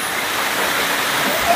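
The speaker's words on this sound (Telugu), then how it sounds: "ఫ్రెండ్స్ చూసారు కదా జలపాతము" Katiki waterfall in Araku roars as a steady, dense wash of falling water, loud and unbroken across the short moment.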